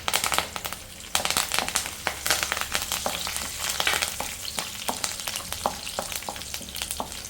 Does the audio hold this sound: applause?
no